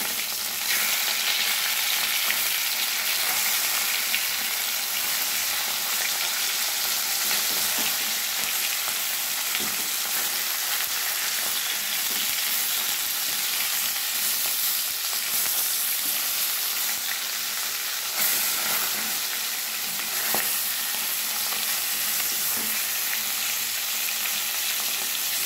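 Chunks of katla fish fry in hot oil in a pan with a dense, constant sizzle, loud and close throughout, with faint scrapes as the pieces are turned over.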